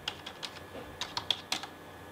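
A computer keyboard is used to type a file name while remapping the engine software of a BMW 323i E46, giving a quick run of light, irregular keystrokes close by in a quiet room.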